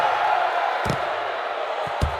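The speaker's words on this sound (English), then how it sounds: "And the crowd is going crazy in this arena" Virtual boxing-arena crowd from the VR game The Thrill of the Fight 2, a steady roaring wash of cheering that fills the whole clip, with a couple of dull thuds cutting through, loud and continuous.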